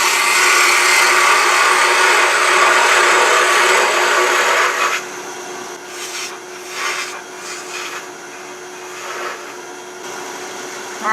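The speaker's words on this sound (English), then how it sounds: "We're going to switch to a spindle gouge." A spindle gouge shears wood on a lathe while tapering a miniature wooden Christmas tree, giving a loud, steady rasping hiss for about five seconds before it drops to a quieter, uneven scraping and whirring.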